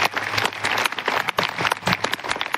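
Sustained applause from a crowd, dense and continuous clapping throughout with no talking over it.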